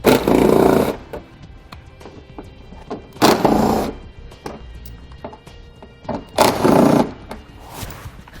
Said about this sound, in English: We'll use an 8mm socket for the ones around the sides.